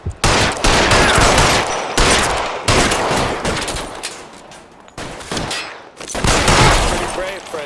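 A loud shootout in the video game L.A. Noire, with dense bursts of rapid gunfire that overlap in waves and are broken by short pauses, along with some shouted speech.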